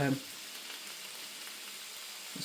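Beef fried rice with hoisin sauce frying in a hot pan makes a faint, even sizzle, with a brief voice at the very start.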